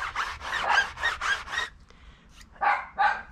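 A dog barks close by in a quick run of about six barks, goes quiet for a moment, then lets out two more.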